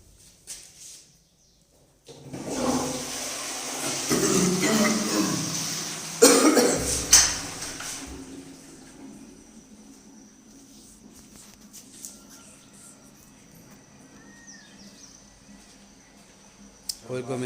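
Cumin seeds drop into hot refined oil while bhindi masala is being cooked, setting off a loud burst of sizzling and crackling that fades to a steady quieter hiss, with brief talk near the start.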